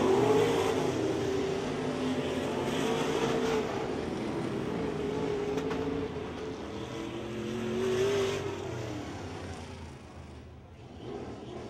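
Race cars lap a speedway track, their engines a continuous roaring drone that swells and fades slightly as they pass, moderately loud throughout.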